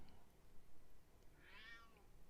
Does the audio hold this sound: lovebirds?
no